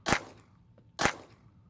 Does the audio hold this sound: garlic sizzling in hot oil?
no